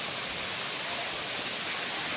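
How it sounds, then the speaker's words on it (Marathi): Steady, dense roar of the Wazra waterfall near Mahurgad, broad and continuous, close by with no pauses or other sounds standing out. "धबधबा आहे गाईज काही अशा प्रकाराचा"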